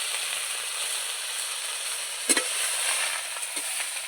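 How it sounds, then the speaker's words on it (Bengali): Giant taro leaves fry in hot oil in a wok, an even crackling sizzle heard close up with a couple of sharp clicks partway through. "শুকনো লঙ্কাটা ভেজে তুলে নেওয়ার পর ফের কড়াইতে তেল দিয়ে দিয়ে দিচ্ছে এবারে মানকচুর পাতা"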